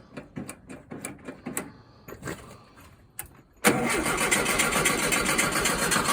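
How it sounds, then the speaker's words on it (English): A sand rail engine, its ignition coil under suspicion, cranks in uneven bursts, pauses, then catches and settles into a loud, steady running roar close by. "we're getting ready to fire it off and see if the coil was the problem"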